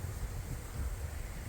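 Strong wind buffets an outdoor microphone in a parking lot, a steady loud rumbling roar that fills the whole moment with no other sound rising above it.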